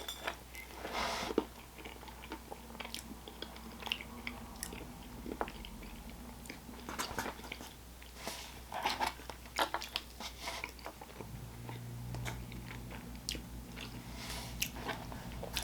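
Crunchy biting and chewing of Friendly's ice cream with peanut butter and caramel pieces, close and repeated crisp crunches with pauses between bites.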